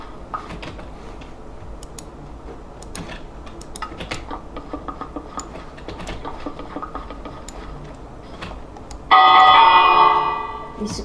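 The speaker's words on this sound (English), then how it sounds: "Successfully rang a bell in this world now, which is nice" A bell rings in the Minecraft video game, a bright metallic clang rising suddenly over faint clicking and tapping in the background and fading out over about a second.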